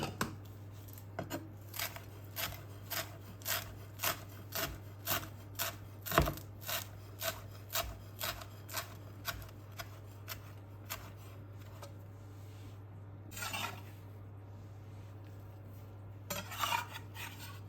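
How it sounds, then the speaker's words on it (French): A large handful of fresh parsley chopped with a knife on a board, a long run of quick, regular, crisp taps at close range, pausing briefly before resuming. "Hachez une grosse poignée de persil frais."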